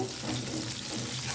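Onions sautéing in a pan while a vegetable kurma is cooked, a steady soft sizzle with light frying crackle, even and close, with no voices.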